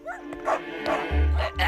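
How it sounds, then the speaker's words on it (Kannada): Cartoon dogs in an animated Motu Patlu episode give a few short yipping barks and whimpers, close and fairly loud, mixed with brief bits of voices. "ಎಷ್ಟು ಸುಂದರವಾದ ನಾಯಿಗಳು."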